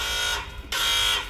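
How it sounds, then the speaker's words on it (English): A Dodge factory security system alarm sounds two sustained tones with a short dip between them, steady and moderately loud with no voices. "about the alarm going off"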